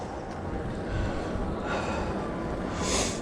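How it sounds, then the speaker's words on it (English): Heavy, labored breathing from someone walking up a steep hill, with close, continuous gasping breaths and a sharper exhale near the end; no speech. "I'm actually breathing quite heavily now."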